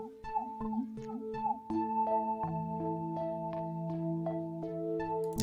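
A synth sequence patch from Analog Lab plays a bright, steady arpeggiated pattern of repeating notes over a sustained low tone, moderately quiet, with no voices.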